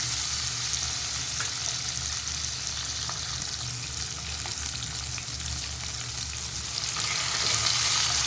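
Chopped capsicum sizzling steadily in a hot pan of oil while cooking okra masala, a dense continuous frying hiss with occasional stirring scrapes, close and fairly loud, swelling slightly toward the end.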